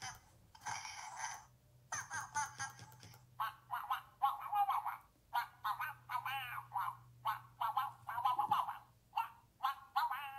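A Little Live Pets Tweet Talking toy duck gives a run of short electronic chirps and quacks in quick repeated bursts, close and fairly clear over a low steady hum.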